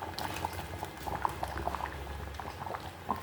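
Sambar curry with roasted ground coconut paste, brinjal and okra bubbling in a pot, a steady close simmer of soft pops and gurgles throughout with no talk.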